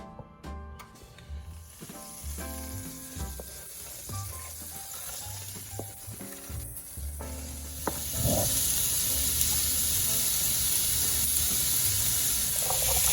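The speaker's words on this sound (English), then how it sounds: "I'm gonna saute some celery, some carrots, some onions" Celery, carrots, onions, shallots, garlic and potatoes sauté in a pan with a steady sizzle that rises and grows louder partway through, mixed with clinks and stirring taps.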